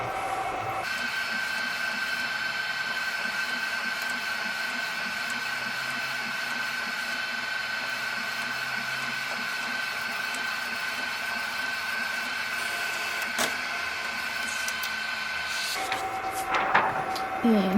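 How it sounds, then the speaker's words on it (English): Epson L1800 DTF printer printing a transfer, a steady continuous mechanical whine and hum running unbroken for a long stretch, ending in a few clunks as the pass finishes. "So far, it appears to be printing out perfectly."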